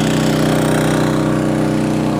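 A Champion 2800-watt generator runs steadily, captured right at its exhaust: a loud, close, continuous engine drone with a buzzing harmonic hum and a rapid exhaust pulse, unbroken and without any voices.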